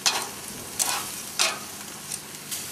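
Onions fry in a pan on a barbecue with a soft, steady sizzle. Brief scraping bursts from stirring rise out of it every half second or so, and no one is talking.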